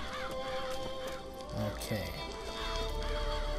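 Crows caw repeatedly in the video game Bioshock Infinite, with harsh calls layered over game music and ambience, while someone speaks briefly.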